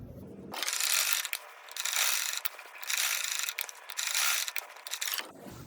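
A sewing machine stitches fabric strips onto a kurti in rhythmic bursts. Each run of close mechanical whirring stops briefly and then starts again, with no talking.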